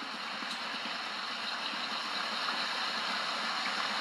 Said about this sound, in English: Maybe there's some kind of way to climb up that waterfall.